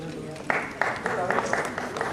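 Audience at an award ceremony honouring women, clapping in a quick burst of sharp applause that rises after a moment and holds under a faint voice.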